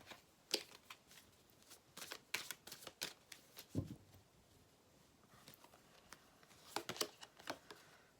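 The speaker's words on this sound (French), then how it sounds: "on va prendre une carte du tarot" A tarot card is drawn from a deck, heard as a run of faint, close papery flicks, taps and rustles of cards being handled, sporadic and quiet.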